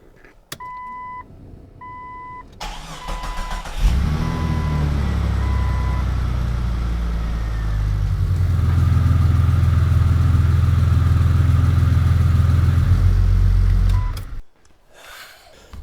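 A Jeep Cherokee XJ fitted with a new Banks Monster cat-back exhaust cranks after a few warning chimes, fires up and settles into a loud, steady idle, then the engine rises in level before shutting off.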